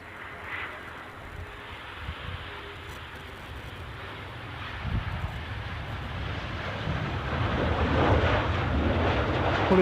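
A business jet arriving at Edinburgh Airport, a broad engine roar building steadily from faint to loud as it approaches, with wind buffeting the microphone.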